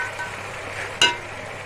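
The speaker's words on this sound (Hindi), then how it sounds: "इसमें हम 4 चम्मच अदरक लहसुन का पेस्ट, इसे भी हम फ्राई करेंगे 2 मिनट तेज आंच पर" Ginger garlic paste fries on a high flame with a steady, close sizzling hiss, broken by one short, sharp burst of spattering or stirring near the middle.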